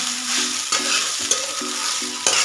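Sabudana khichdi stirred with salt and crushed peanuts in a hot pan gives a close, steady sizzle broken by repeated scraping strokes of a spoon, with no voices.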